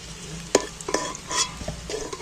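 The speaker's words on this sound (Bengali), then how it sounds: "আলুগুলো লাল লাল করে ভাজবো" Potatoes frying in oil, a close hiss and sizzle with a few sharp stirring knocks and scrapes in a pan, moderately loud and brief, with no talking.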